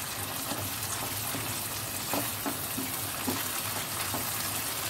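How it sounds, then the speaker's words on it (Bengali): Tomato puree being sautéed in a pan with chana and potol, giving a steady, soft, fairly quiet bubbling sizzle with occasional stirring knocks. "টমেটো পিউরিটা। খুব ভালোভাবে কষিয়ে নিতে হবে এটা।"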